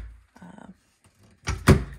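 Loose wooden cabinet door on an old TV entertainment center being moved: soft creaks and rattles, then a louder close knock and thunk as the door swings and bumps shut.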